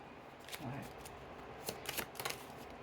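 A tarot card being drawn from a deck, with brief soft shuffling and flicking of cards in small clustered bursts, quiet and close, under a low background hum.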